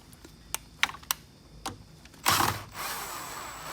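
A hand tool works loose the negative terminal on a GMC Terrain car battery, producing a few sharp ratcheting clicks followed by a brief, louder metallic scrape, close up and without talking.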